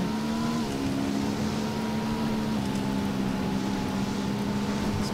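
A motorbike engine in a video game drones steadily and evenly throughout, with a smooth constant pitch and no clear revving.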